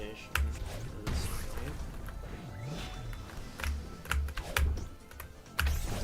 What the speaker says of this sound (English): How are the keyboard sounds